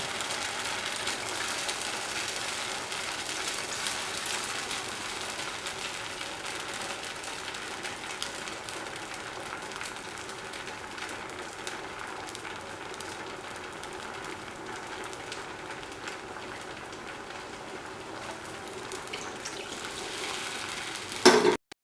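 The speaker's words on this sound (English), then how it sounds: "Pour in the arrowroot powder" A mixture of arrowroot powder and water sizzles steadily in a heated pan for arrowroot sweet pudding, a continuous soft frying hiss with faint stirring and no voices.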